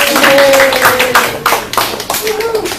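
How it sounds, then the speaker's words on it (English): Brisk applause from a small group of participants at a kitchen remedies session, dense clapping at first that thins into scattered claps, close by, with voices talking over it. "Let's give a round of applause to our participants"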